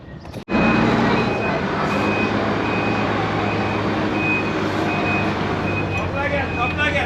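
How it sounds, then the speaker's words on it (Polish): A bus reverses through a narrow street lined with buildings, its reversing alarm sounding a steady, evenly spaced beep over a loud idling engine rumble, with voices talking nearby. "Tak wygląda cofanie w autobusie, w tym wąskim terenie, przy tych wszystkich budynkach."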